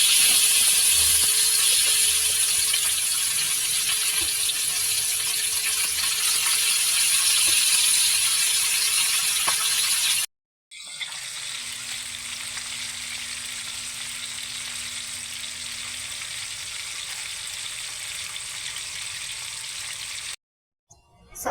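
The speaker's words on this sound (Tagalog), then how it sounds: "pag mainit na yung mantika, ilalagay na natin yung isda" Fish frying in hot oil, a continuous bright crackling sizzle heard close up, steady for several seconds, broken by two short silent gaps, with no talking.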